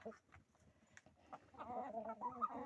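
Hens clucking softly nearby, a few short scattered clucks at first building into a busier run of clucking.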